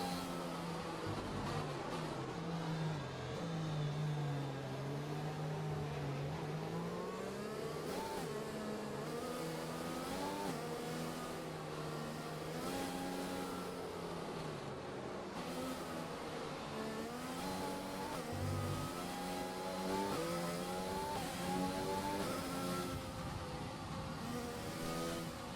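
Formula 1 car engine in the F1 2020 racing game at the Vietnam circuit, revving steadily with rising and falling pitch through gear changes, loud and continuous with no talking.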